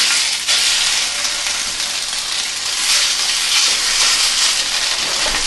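Continuous sizzling of food frying in oil in a pan over medium-low heat for a breakfast fry-up, a steady bright crackling hiss close by with faint stirring, no talking.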